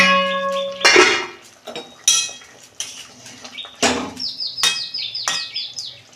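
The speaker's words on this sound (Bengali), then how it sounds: "দু মিনিট ঢাকা দিচ্ছি দেখুন বন্ধুরা ঢাকনা খুলছি" A metal lid lifted off a pot of Bengali fish curry with cauliflower, potato and flat beans, giving clanks and scrapes of metal on metal over a few seconds, close and fairly loud, with faint bird chirps in the background.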